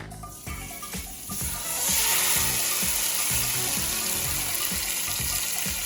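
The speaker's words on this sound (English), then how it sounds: "The pot is hot and dry, so let's go ahead and add our oil." Cooking oil poured into a hot, dry pot for jollof rice gives a steady, loud hiss and sizzle that builds after a few seconds and then holds.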